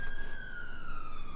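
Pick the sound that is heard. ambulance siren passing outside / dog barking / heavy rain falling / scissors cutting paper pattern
ambulance siren passing outside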